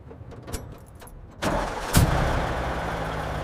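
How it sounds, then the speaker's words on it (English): A heavy machinery engine cranks with a short burst, then catches and settles into a loud, steady rumbling idle. "Fuel pressure check. Engine engaged."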